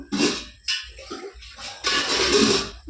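Water pours in uneven splashing gushes into a cooking pot holding oil and turmeric for pongal, close and fairly loud, with short gaps between pours.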